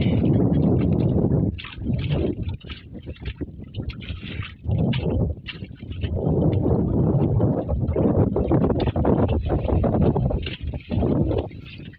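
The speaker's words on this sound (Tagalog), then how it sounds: "Lakas ng hangin ah." Strong wind buffets the microphone in loud, rumbling gusts that surge and ease throughout, with only brief lulls.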